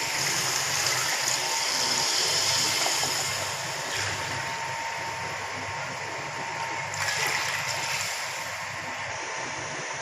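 Water pours steadily into a bowl of washed rice for Kabuli pulao, a continuous splashing rush close by with a slight change partway through.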